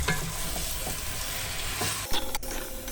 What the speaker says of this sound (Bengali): আমরা অ্যাড করব হচ্ছে ডাক, মানে হাঁসের মাংস। তো এটাকে একটু ভাজা ভাজা করব